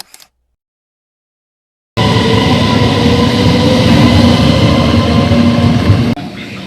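A high-speed train arriving at Shanwei station on the run from Shenzhen North, a loud steady rumble and roar that cuts in abruptly after a near-silent start and holds constant, with no talk over it.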